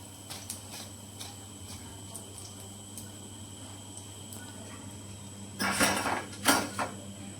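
Gota fritters being turned slowly in hot oil in a frying pan, with a steady low frying hiss and two short bursts of metal spatula clatter against the pan near the end.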